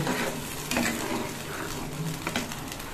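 Milk being stirred into potol curry in a pan, a bubbling simmer with a steady fry-like hiss broken by scraping strokes of a spoon against the pan, close and continuous with no talking.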